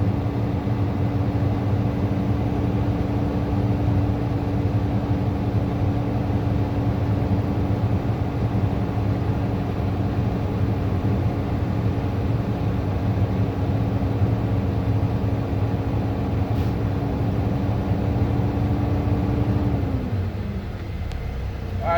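A truck engine idles up and holds steady around 1200 to 1500 RPM during an air brake inspection, a constant loud droning rumble with a steady tone that drops away near the end as the revs fall.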